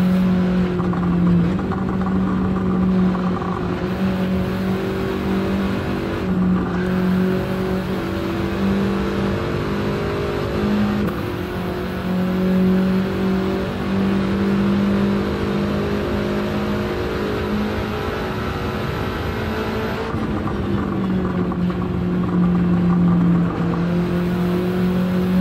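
A race car engine in the video game Gran Turismo 7 revs continuously and loudly through the whole stretch, its pitch rising and falling with throttle and gear changes, with brief dips between pulls.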